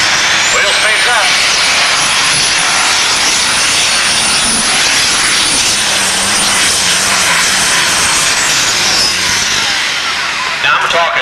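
A pulling tractor at a Grand National truck and tractor pull roars loud and continuous down the track, a dense high-pitched engine scream with a rising whine, under an announcer's voice.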